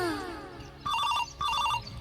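A phone ringtone sounds nearby in two short, bright electronic bursts with a brief gap between them, after a moment of other background sound.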